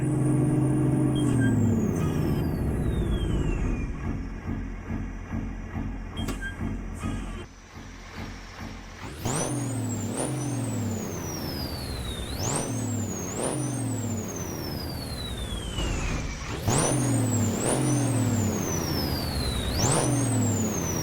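A Peterbilt truck with a Caterpillar 3412 V12 engine in a trucking video game rumbles at idle, then revs in repeated rising sweeps, each ending in a drop, with an air-brake hiss partway through.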